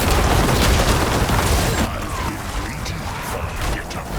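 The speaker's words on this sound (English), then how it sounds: "exploding lots of corpses and casting a lot of shadow" Necromancer corpse explosions from Diablo 4, a Shadowblight build in a hardcore Pit 100 run: a dense, continuous rumble of booms and bursts, loudest in the first two seconds and then easing slightly, with game effects layered throughout.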